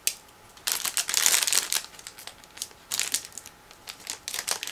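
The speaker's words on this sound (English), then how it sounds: "Next we have sealed plastic bag, so I'm going to use scissors in order to open it." Sealed plastic bag being cut open with scissors, close crinkling and rustling in two loud bursts separated by quieter handling, then lighter scattered crackles.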